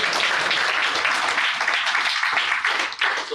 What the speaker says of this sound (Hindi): ताली बजा के प्रभु का धन्यवाद कीजिए।